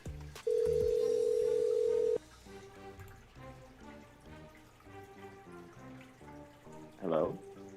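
A telephone handset emits a steady dial tone for about two seconds while a call is placed, followed by faint background sounds and muffled movement, with a brief louder burst near the end.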